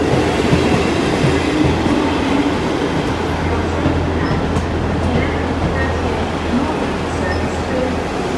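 An East Midlands Railway two-coach passenger train bound from Liverpool Lime Street to Norwich and Nottingham rumbles steadily at Sheffield station, a loud continuous low roar of engine and rolling wheels with a station announcement voice partly audible underneath.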